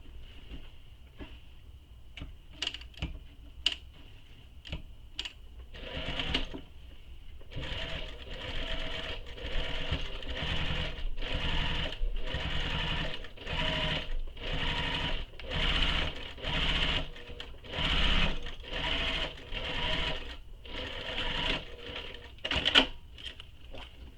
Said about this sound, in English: we're going to top stitch this with the seam allowance she gives in the pattern